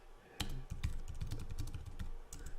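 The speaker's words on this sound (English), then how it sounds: "we can start typing if you want." Typing on a computer keyboard, a steady run of close, crisp key clicks with uneven rhythm and a few louder taps, with no talking.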